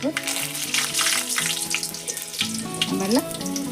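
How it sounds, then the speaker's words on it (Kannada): Mustard seeds crackle and sputter in hot oil for an eggplant stir-fry, a dense close sizzle with sharp pops throughout, while a person talks over it. "ಎಣ್ಣೆ ಕಾದಿತಿ ಸಾಸಿವೆ ಹಾಕೋತೀನಿ"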